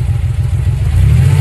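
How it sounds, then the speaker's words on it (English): Convertible cabriolet car engine running steadily with a strong low rumble, loud and close, idling or revving briefly with no voices. "Cabriolet."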